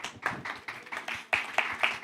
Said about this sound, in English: Yeah, you can clap for Anna.